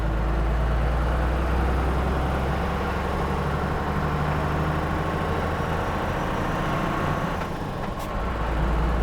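A Cummins-engined Land Rover 130 runs with a loud, steady diesel rumble up close, holding an even idle throughout with a brief faint click near the end, and no talking.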